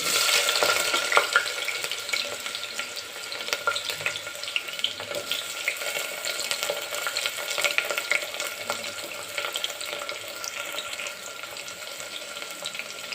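Green chillies and onion frying in hot oil for kuska rice, a dense crackling sizzle throughout with scattered spatters and stirring, close and fairly loud, with no voices.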